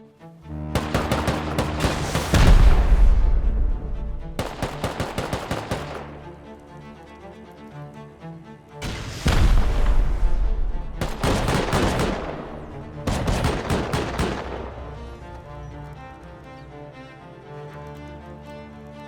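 Rocket raid in the Rust video game: heavy explosions and bursts of gunfire in several loud clusters, each booming blast trailing off before the next volley, with quieter gaps between.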